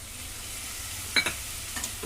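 Spiced chicken masala with yogurt added sizzling in a pan, a steady soft frying hiss with a couple of brief stirring clinks, no talking.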